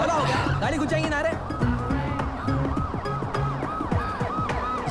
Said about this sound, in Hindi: पुलिस का सायरन है